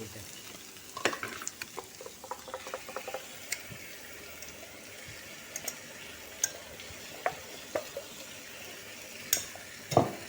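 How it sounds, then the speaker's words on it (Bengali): Browned onion and ginger garlic paste fry in a pan with a soft sizzle under a run of sharp, irregular scrapes and taps from stirring, close and fairly quiet. "এরপর আদা রসুনের পেস্ট দিয়ে দিচ্ছি"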